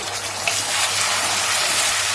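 Water being poured onto jaggery and sugar in a cooking pan, a steady close hiss and gush of liquid lasting a couple of seconds, with no talk.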